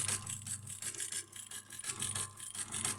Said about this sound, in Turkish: Makine hızlı da çalışabilir ama ben size göstermek amacıyla makinemi yavaşlatmıştım.